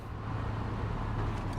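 A truck in the SnowRunner video game gives off a low, steady, blatting engine rumble, close and fairly loud throughout, with no talking.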